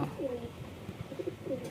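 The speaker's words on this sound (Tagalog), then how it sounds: "Gandang ibon mga tropa." Racing pigeons cooing at close range in a short burst of soft, repeated throaty coos over faint background noise.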